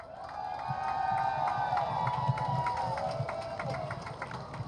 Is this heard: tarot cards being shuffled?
no